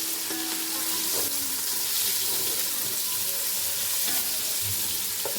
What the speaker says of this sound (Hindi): अब मैं इसमें डालूँगी लहसुन अदरक 2 चम्मच।